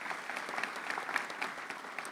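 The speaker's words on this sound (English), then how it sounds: "Please give them another round of applause" A commencement ceremony crowd gives a sustained round of applause, dense clapping at moderate distance, steady for a couple of seconds with no voices over it.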